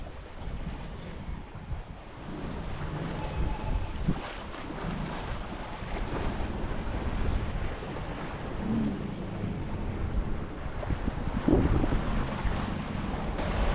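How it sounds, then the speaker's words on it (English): Gusty wind buffets a sailboat at sea around sunset, a steady roar of wind and microphone rumble over washing waves, with stronger gusts swelling midway and near the end. "During sunset it's a little bit gusty"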